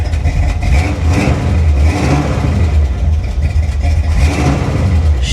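A 1985 Chevy El Camino engine runs steadily, a rough, loud, close rumble with slight fluctuations in revs and no talking.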